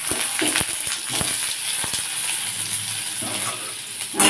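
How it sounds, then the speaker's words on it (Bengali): Boiled potatoes frying in hot oil in a wok while a vegetarian potol dhoka is made: a steady, close sizzling hiss with a few sharp crackles and pops, no voices. "এবার কড়া যে তেল আছে সেটায় সেদ্ধ করে রাখা আলুটাকে ভেজে নেব"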